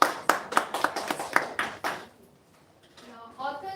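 Brief burst of audience clapping at an academic conference ceremony, a few seconds of scattered claps that fade out, followed by faint talk.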